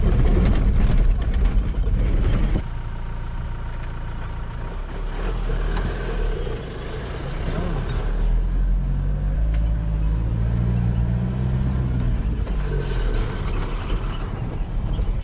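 A car driving over soft sand on the way to Black Point in Western Australia, a steady loud engine drone with cabin rumble and shifting tone, continuous throughout.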